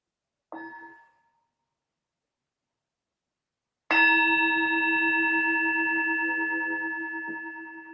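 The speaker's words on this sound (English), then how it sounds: "we can start with the sound of the bell" A resonant bell is struck to open a guided mindfulness practice: a short muted tap first, then one clear ringing strike whose bright harmonic tone sustains and slowly decays, alone in a quiet room.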